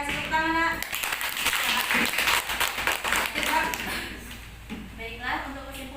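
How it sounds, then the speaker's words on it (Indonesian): Brief clapping from a small group of children in a classroom after an experiment mixes with a voice and other talk, fading as speech takes over. "Oke, kasih tepuk tangan, Nak."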